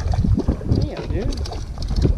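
Wind buffets the microphone on open water from a boat while fishing for speckled trout, with a steady rough rumble and splashing under overlapping voices talking.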